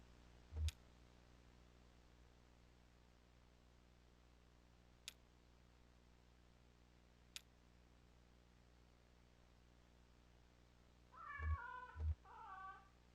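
A cat meows twice near the end in a Kentucky Route Zero game scene, short close calls over a low steady ambient hum, with a few sharp clicks earlier.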